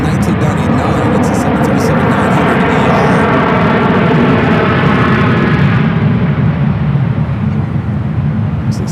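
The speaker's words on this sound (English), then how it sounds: "737-900ER. It's a Southwest flight touching down at 19er left." A Southwest Boeing 737-900ER touches down at San Francisco airport, a loud, steady broadband jet roar that fills the whole stretch with only slight fading, while voices talk over it.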